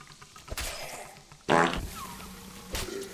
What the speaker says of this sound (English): Oh, that dude farted too.